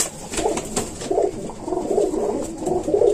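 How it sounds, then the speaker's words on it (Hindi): Lakhi pigeon cooing close by, a series of soft, throaty rolling coos repeating in quick succession with a few light rustles. "ये हमारे पास एक लाखी कबूतरी है।"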